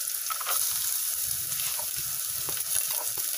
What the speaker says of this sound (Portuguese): Eu vou dar uma refogadinha na cenoura